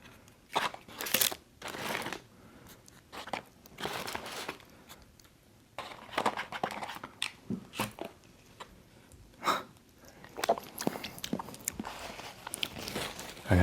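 Someone eats a McDonald's bacon Caesar McCrispy chicken sandwich up close, with irregular loud crunchy bites and chewing spread over several seconds, some wrapper crinkling, and brief quiet gaps between mouthfuls.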